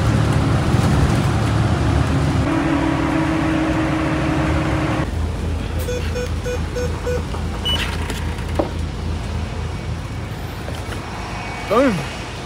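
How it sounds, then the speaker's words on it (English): Inside a moving bus in Australia, a low engine drone and road rumble run steadily, shifting as the vehicle changes gear, with faint rattles and brief beeps, while a person talks over it. "All right, guys, we're on the bus now."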